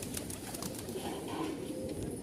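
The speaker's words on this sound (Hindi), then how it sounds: "सफ़ेद कबूतरी है। बढ़िया कबूतरी है जी" A small white female pigeon of the Rajnawada type gives soft, low, faint coos against a quiet background.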